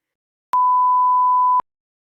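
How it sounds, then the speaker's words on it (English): An airport metal detector gives one clean, steady electronic beep lasting about a second, sharply cut on and off, with silence on either side. "It beeps."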